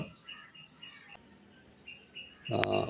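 Birds call repeatedly in a garden behind a home balcony, their short bright chirps and calls recurring at a moderate distance over a soft background hum, with a louder burst of noise near the end.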